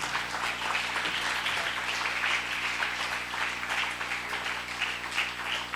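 Applause from an audience at a felicitation ceremony during the Bait Bazi 2025 event in Aurangabad, India: faint, steady clapping that continues evenly throughout.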